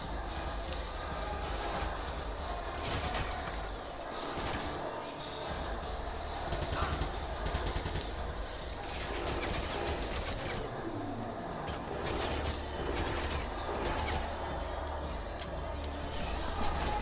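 Marcus fires in Watch Dogs 2: scattered sharp shots and short bursts cut through a dense, steady wash of game sound and background noise.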